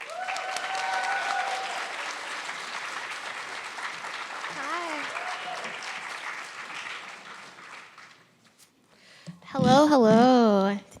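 Audience applause greets a presenter walking onstage at a talk on interdisciplinarity and community building, a steady crowd clapping for about eight seconds before fading, followed by a loud voice speaking.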